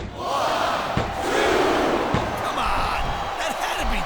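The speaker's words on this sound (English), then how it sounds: "the crowd has come alive tonight with a chant directed at the superstars in the ring" A wrestling arena crowd at a no-disqualification match chants loudly at the wrestlers in the ring, a dense rhythmic roar of many voices that swells and holds, with thumps from the ring underneath.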